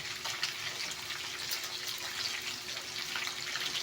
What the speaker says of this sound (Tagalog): Lagyan natin ng kalating basong tubig guys para magkaroon ng sarsa